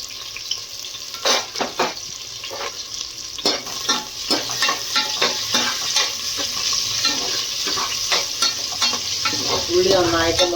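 Sliced onion frying in a pan for a Karnataka-style dish, with a steady loud sizzle and frequent scraping stirs across the whole stretch, building slightly toward the end; no voices.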